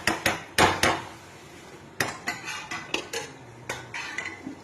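Metal pot and lid clattering as a lid is set over a pot of chicken koftas, a run of sharp clanks and knocks, loud and close, bunched at first then spaced out, with no talk.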